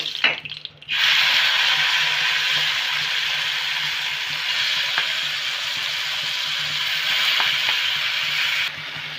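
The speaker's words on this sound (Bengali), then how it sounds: "আমি কিন্তু ভেন্ডিটা কড়াইয়ে দিয়ে দিয়েছি" Okra (bhindi) frying in a wok for achari bhindi, a steady broadband sizzle that starts after a brief clatter and holds evenly, fairly loud and close, with a few faint knocks.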